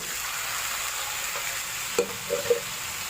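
Chicken pieces for spicy ginataang chicken drop into a hot pan over a steady background hiss, with a few short, louder sizzling bursts near the end and no talking.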